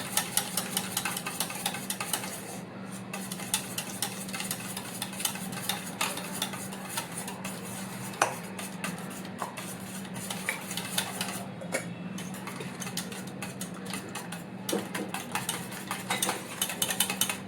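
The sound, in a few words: whisking six eggs in a pot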